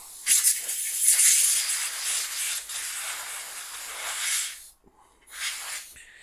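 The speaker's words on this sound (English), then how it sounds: "So, get some compressed air under there." Compressed air blasts dust out of an old Fox Computer Systems machine during restoration, a loud broadband hiss running steadily for about four seconds, cutting off briefly, then a shorter second burst.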